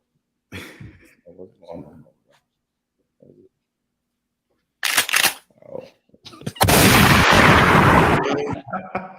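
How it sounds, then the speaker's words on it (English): A gunshot sound effect fires from a podcast sound bar, giving a burst of loud booming blasts near the end after scattered talk and pauses in a studio. "Shots fired! Shots fired!"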